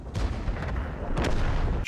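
A big tank gun fires in a video game, a heavy booming blast with a sharp crack, followed by a rumbling tail over steady low engine noise.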